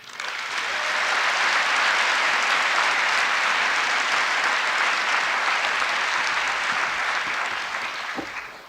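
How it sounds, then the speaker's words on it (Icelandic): Sustained crowd applause at a large rally in support of Palestine, swelling in quickly, holding steady for several seconds, then tapering off at the end. "Gefum honum gott klapp."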